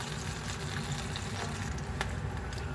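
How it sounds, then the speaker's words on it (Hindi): Chicken popcorn deep frying in oil, a steady dense sizzle and crackle with scattered pops, continuous and fairly close. "यहाँ हमारे जो बाकी के पॉपकॉर्न बने थे वो भी फ्राई हो रहे हैं।"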